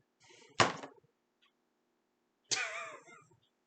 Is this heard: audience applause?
no